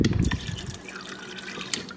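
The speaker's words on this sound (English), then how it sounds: "to get a really fluffy scrambled egg is to actually add some water" Water poured from a tap into a bowl of eggs for scrambling, a brief close splash and gurgle at first that settles into a softer steady trickle.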